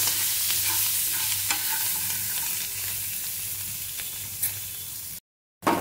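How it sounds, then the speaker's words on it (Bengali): Chopped coriander is stirred into kachori filling frying in a pan. A steady close sizzle runs under soft scraping stirs, with a brief silent gap near the end. "বন্ধুরা এর মধ্যে আমি দিয়ে দেবো একটু ধনেপাতা কুচি। এটা দিয়ে একটু নেড়ে নেব।"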